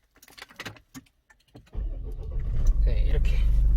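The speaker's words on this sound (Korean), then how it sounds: "시동을 한번 걸어보도, 걸어보도록 하겠습니다." A few clicks and taps, then a Samsung SUV's engine cranks from a push-button start and catches, settling into a steady, loud idle rumble.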